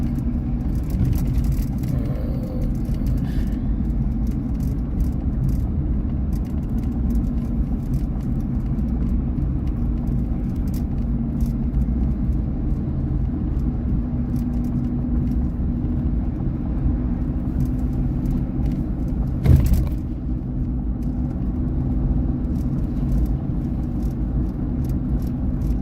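Steady road traffic in Cheyenne, Wyoming, passing as a continuous low rumble of car engines and tires, with one brief louder swish partway through and no talk.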